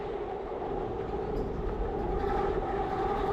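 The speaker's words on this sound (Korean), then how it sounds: "열차가 오고 있습니다." A train crossing a railway bridge produces a continuous, steady rumble with a low droning hum throughout, fairly close and without any talking.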